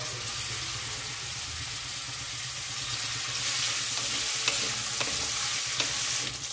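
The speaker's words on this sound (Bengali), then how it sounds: "ভাজার জন্য দিয়ে দিচ্ছি।" Hot oil sizzles and crackles steadily as small pieces of boneless chicken fry in a pan, with occasional stirring clinks and no talking.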